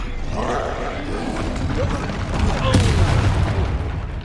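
A Bombarda spell goes off in Hogwarts Legacy, a rumbling magical explosion with a dense roaring burst that swells louder toward the end amid crackling battle noise.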